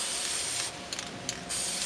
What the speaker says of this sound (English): then you'll go ahead and spray paint the first side of your plastic animal.